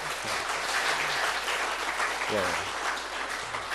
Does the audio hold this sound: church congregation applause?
yes